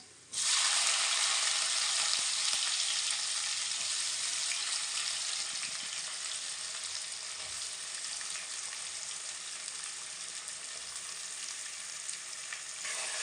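Onions drop into a pan of hot oil with browned garlic for baingan bharta, setting off a loud, sudden sizzle that holds as a steady frying hiss and eases slightly over time, with occasional stirring clicks and no talking.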